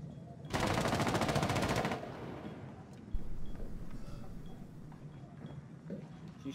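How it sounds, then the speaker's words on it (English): Automatic weapon fire in the video game Rainbow Six Siege rips out in a loud rapid burst lasting over a second, followed by scattered thuds and a sharper single shot amid lower background game noise. "She's shooting through that window."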